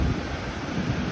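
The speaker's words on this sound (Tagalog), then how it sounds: "Kasi lakas ng hangin." Strong wind buffets a microphone on a beach, with a steady low roar and possible surf mixed in, continuous and loud throughout the short stretch.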